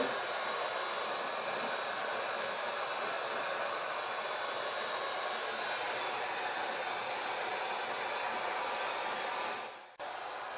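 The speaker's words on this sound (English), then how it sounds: "now the other advantage of the heat gun" A heat gun blows hot air to dry fresh paint stripes on a 1968 Mustang under restoration, a loud, steady close-up rush of air that holds for about ten seconds, then dips briefly and resumes.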